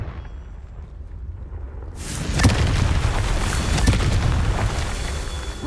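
A Confringo fire spell from the game Hogwarts Legacy bursts into a loud, sustained rumbling blast after a quiet lead-in, with booming crackle lingering for several seconds.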